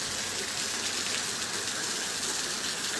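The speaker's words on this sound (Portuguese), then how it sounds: "Caindo aqui uma chuvinha aqui em Currais Novos" Light rain falling in the sertão of Currais Novos, a steady dense hiss of drops on surfaces that holds even and unbroken throughout, with no voices.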